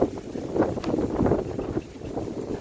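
Wind gusts outdoors while someone digs for crabs in rice paddies, a steady rumbling microphone buffet that swells and eases, loud and close with no clear talking.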